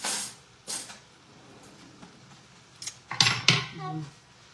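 A fork clinks against a plate during a meal of sautéed egg, giving a few sharp metallic taps, loudest in a quick cluster near the end, between quiet pauses.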